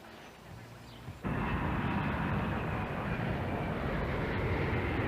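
Airliner cabin in cruise, Honolulu to Taiwan flight climbing toward 30,000 feet, fills with a loud, broad, steady engine roar that cuts in abruptly after a quieter second and holds constant.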